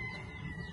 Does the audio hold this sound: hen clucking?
yes